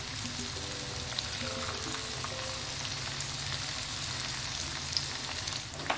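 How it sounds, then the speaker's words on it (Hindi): Chicken pieces fry in hot oil in an uncrowded pan for a restaurant-style dry chilli chicken, a steady close sizzle with a faint low hum underneath and the occasional tiny pop. "3 से 4 मिनट लगेंगे और चिकन हमारी अच्छे से फ्राई हो जाएगी"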